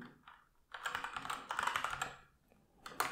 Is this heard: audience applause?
no